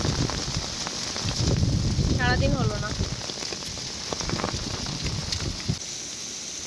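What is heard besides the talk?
heavy hailstorm rain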